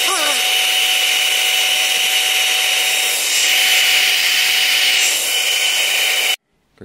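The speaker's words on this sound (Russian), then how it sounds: "Включаем фен." A hair dryer blowing on a ceiling grab handle inside a Skoda Octavia A5, giving a loud, close, steady whooshing whine that holds for about six seconds and then cuts off abruptly.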